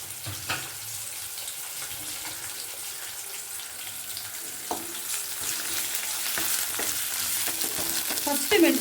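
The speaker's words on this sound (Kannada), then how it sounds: "ಈರುಳ್ಳಿ ಮತ್ತು ಮೆಣಸಿನ್ಕಾಯಿನ ಜೊತೆಲೇ ಹಾಕಿ ನಾನು ಹುರಿತಾ ಇದ್ದೀನಿ" Onions and green chillies frying together in a pan for a vermicelli breakfast dish, a steady soft sizzle with occasional stirring clinks and scrapes, no voices.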